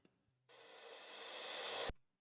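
A reversed cymbal swells steadily louder for about a second and a half, then cuts off abruptly, leaving near silence.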